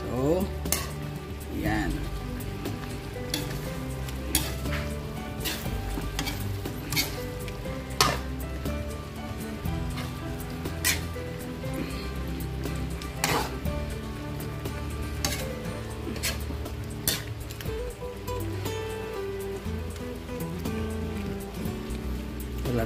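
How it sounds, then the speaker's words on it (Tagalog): Onions sautéing in a pan for Filipino beef steak (bistek) give a constant crackling sizzle with scattered pops and occasional utensil clicks. The sound is loud and close, with a brief spoken word over it. "nagpapawis na yung ating onion"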